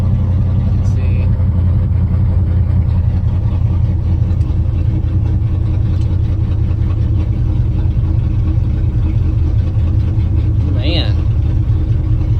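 A 1979 Ford F250 truck engine idles roughly on a cold morning, a steady low rumble with an uneven, choppy beat running throughout, while someone speaks briefly over it.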